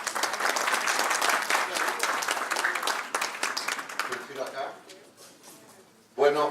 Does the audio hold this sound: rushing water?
no